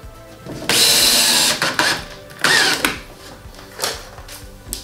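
Screws driven one after another into a wooden stand for a 700-gallon aquarium, a power driver whining in several loud bursts of about a second each, separated by short pauses and softer clicks.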